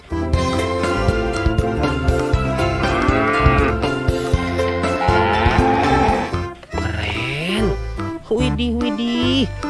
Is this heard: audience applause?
no